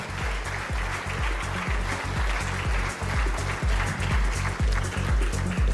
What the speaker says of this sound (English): I'd request a warm round of applause and a big thank you